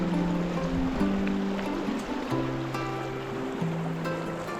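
Water of the West Fork creek rushing across a hiking trail in the Idaho wilderness, a close, steady broadband wash with a faint droning tone running underneath and no voices.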